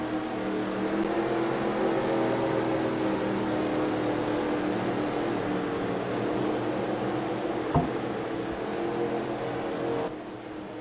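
Race cars sit lined up before the start of a race, a steady wash of engine drone and low rumble across the whole stretch with one sharp knock, no voices over it.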